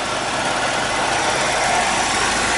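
A 1980s car engine idles steadily after a radiator replacement, a close, even mechanical hum and rumble with no talk over it.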